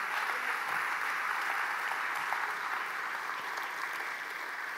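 A church congregation claps in steady, dense applause filling the room, sustained evenly throughout with no voices standing out.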